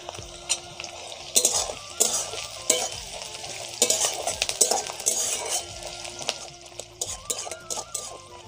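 Whole cardamom, cloves and cinnamon sizzle in a pan of hot oil for jackfruit curry, with repeated sharp clinks and scrapes of a spoon stirring against the metal, close and loud.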